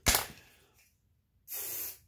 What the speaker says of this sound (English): Spray it down again.